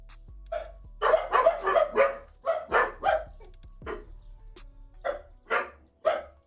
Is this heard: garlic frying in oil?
no